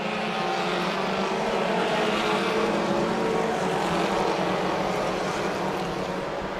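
Race cars side by side drag racing down the front stretch at Ohsweken Speedway: a loud, continuous roar of engines close by, steady and dense throughout with no speech.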